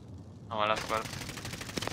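Rapid automatic gunfire in the shooter Warzone rattles out as a fast run of sharp bursts, close and loud, overlapping a short stretch of voice.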